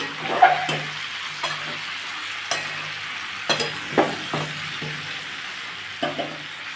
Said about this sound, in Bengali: এবার আমি চিনি মাছগুলো এর মধ্যে দিয়ে দেবো দিয়ে একটু নেড়ে নেব